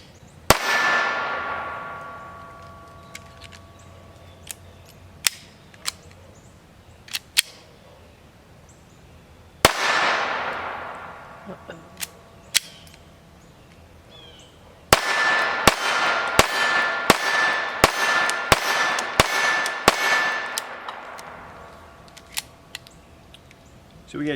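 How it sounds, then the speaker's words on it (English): Walther PPK/S .22 LR pistol firing Federal Match 40 grain rounds at a range: sharp, loud individual shots with ringing tails, two spaced reports, then a rapid string of shots, with clicks and handling noise between. "we're going to be shooting Federal Match 40 grain as a function test"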